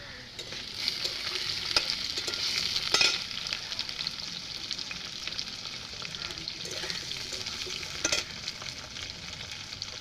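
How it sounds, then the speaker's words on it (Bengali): Steady, close sizzling of grated potatoes frying in a hot pan, a continuous crackling hiss with occasional louder pops and spatters. "আলু ভাজা হচ্ছে"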